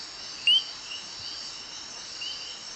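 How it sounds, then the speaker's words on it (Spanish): A small orange tree-dwelling Eleutherodactylus gularis frog on Gorgona island gives a single sharp, high whistled chirp at night, near and clear, over a steady hiss of insects. "La Eleuterodactylus gularis, una pequeña rana de color naranja y de hábito arbóreo, es la encargada de emitir la marcada vocalización."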